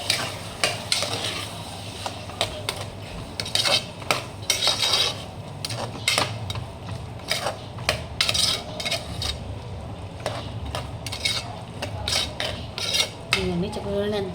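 A spoon stirs green beans and other ingredients in a metal pot, with repeated scraping and clinking strokes in an uneven rhythm over a faint sizzle, close by.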